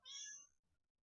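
A cat gives a single clear, drawn-out meow up close, followed by a faint, softer trailing sound and then quiet.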